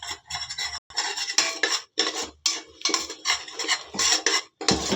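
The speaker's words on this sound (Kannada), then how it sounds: "ಚೆನ್ನಾಗಿ ತಿರುಗ್ಸೋಣ" A spoon scrapes and stirs gram flour frying in oil in a pan for vegetable kadhi, in loud, rhythmic bursts of metal-on-pan rasping with short pauses between strokes.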